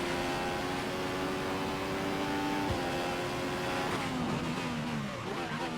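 F1 2015 video game race car engine at the Austrian Grand Prix, a loud sustained whine that holds steady, then drops in pitch as the car downshifts through the gears.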